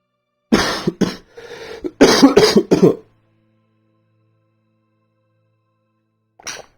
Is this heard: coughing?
yes